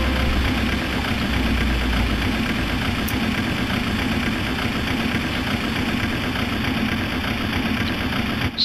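Airliner engine running up in Flight Simulator X on a Philippine Airlines flight from Manila to Laoag, a steady loud broadband roar with a constant low hum and no clear change over the whole stretch.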